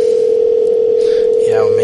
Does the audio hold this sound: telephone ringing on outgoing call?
yes